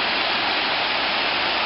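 A large, swollen creek with waterfalls roars on a hiking trail beside Little Rock Creek. The rush of water is loud, dense and steady, with no voices.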